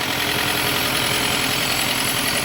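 An Isuzu 3000 turbo engine fitted in a Thai e-taen farm vehicle runs steadily, a loud, even, close rumble with a constant drone and no change in pace.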